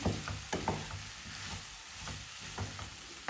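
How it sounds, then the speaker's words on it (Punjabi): Ground spices, coriander powder, red chili and turmeric, stirred and roasted in a hot pan for a potato and moongre dish, giving a steady low sizzle broken by scraping stir strokes. "ਮਸਾਲਿਆਂ ਨੂੰ ਮਿਕਸ ਕਰਕੇ ਆਪਾਂ 2-3 ਮਿੰਟ ਲਈ ਭੁੰਨ ਲਵਾਂਗੇ"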